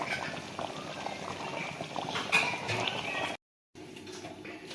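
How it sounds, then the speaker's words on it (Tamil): Veg mix paneer masala gravy bubbles steadily in a pan on the stove, a close, continuous hiss and pop of boiling that cuts out briefly near the end before resuming. "ஒரு 5 நிமிஷம் மட்டும் நல்லா கொதிக்கட்டும்."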